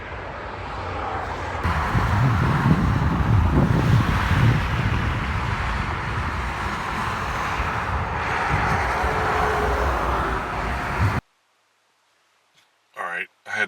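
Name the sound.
highway traffic noise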